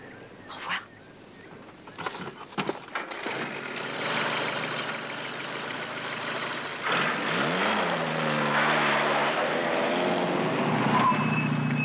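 A propeller aircraft engine rumbles steadily and grows fuller, settling into a loud continuous drone after a few brief knocks and rustles at the start.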